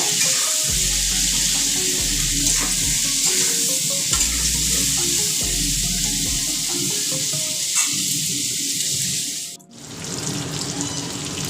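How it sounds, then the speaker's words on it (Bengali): Cauliflower pieces frying in hot oil give a loud, steady sizzle with repeated scrapes and stirring clatter, ending in a brief break before a fresh burst of sizzling. "ফুলকপিগুলো একটু লাল লাল করে ভেজে নিই।"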